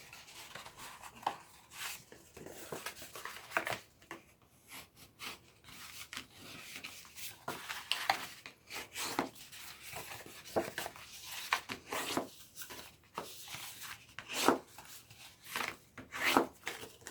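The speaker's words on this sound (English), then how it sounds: "Grab your bone folder, fold and burnish all of those score lines." Bone folder rubbing and burnishing score lines on folded cardstock for a papercraft project, a steady series of soft, close scraping strokes with a dry rasping texture, quiet and continuous with no talk.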